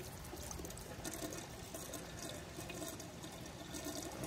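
Antifreeze poured into the plumbing of an inground swimming pool during closing; a faint, continuous liquid trickle and gurgle with no pauses.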